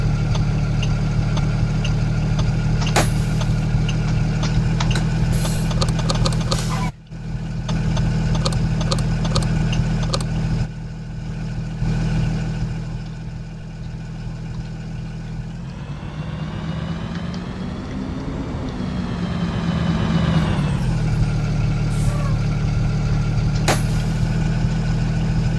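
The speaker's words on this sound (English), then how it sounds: "Notice the engine sounds a lot different" A Blue Bird school bus engine runs steadily and close, a deep, even diesel rumble that swells and rises in pitch partway through before settling back, with no voices over it.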